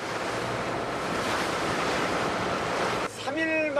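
Sea waves and strong wind roar in a loud, continuous wash around a winter fishing boat at sea, then cut off abruptly as a voice begins speaking.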